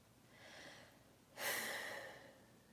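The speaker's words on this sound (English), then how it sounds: "Physically breathing deep." Slow, deep human breaths, a softer inhale followed by a louder, fuller exhale, close and alone with no talking.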